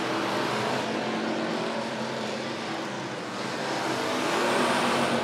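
Late model race cars racing around the Monett Motor Speedway oval, their engines making a dense, steady roar that swells and fades slightly as the pack passes, with no talk.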